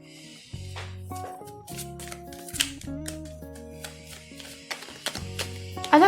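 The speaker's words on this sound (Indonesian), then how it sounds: "Oke, gue bakal buka kartu selanjutnya." Tarot cards shuffled, slid and drawn at close range, a run of soft papery flicks and taps with no talking.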